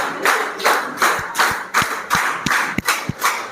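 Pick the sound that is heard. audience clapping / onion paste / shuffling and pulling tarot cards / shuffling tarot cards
audience clapping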